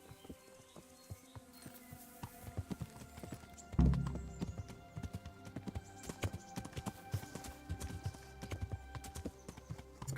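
A horse's hooves clip-clop steadily in the medieval game Kingdom Come: Deliverance, a close, rhythmic run of crisp hoof strikes with a louder thump midway, and no talking.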